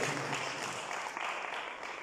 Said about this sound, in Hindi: सो आइए ताली बजा करके